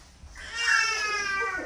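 A single drawn-out cat meow, close and clear, rising then trailing off.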